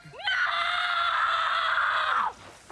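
A loud, sustained scream from a Percy Jackson and the Olympians TV episode, one long shrill cry lasting about two seconds, close and dominant, then cut off.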